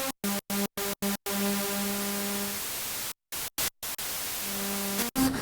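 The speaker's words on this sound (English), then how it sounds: "Sounds like white noise as well." White noise from the noise source of a Prophet 5 Rev4 synthesizer, loud hissing bursts cut into short gated pulses, with sustained tonal notes fading in and out between them.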